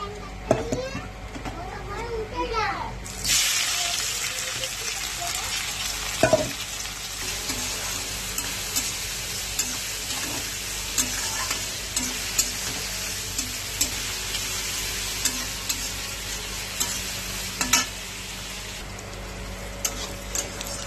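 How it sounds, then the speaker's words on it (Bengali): Chopped onions hit hot mustard oil and set off a loud, steady sizzle that carries on throughout, with a clattering thump early on and voices speaking faintly in the background. "সর্ষের তেল গরম হয়ে গেছে, এবার দেবো কুচানো পেঁয়াজ।"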